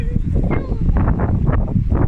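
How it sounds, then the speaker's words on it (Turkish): Steady low rumbling wind buffeting a microphone on a hilltop, loud and constant throughout, with faint voice-like murmurs mixed in. "Hava tepedeyiz diye bayağı rüzgarlı."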